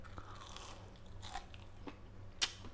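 Biting into crispy breaded fried fish, quiet close crunches with a faint chewing texture and one sharp, brighter crunch near the end, no talk.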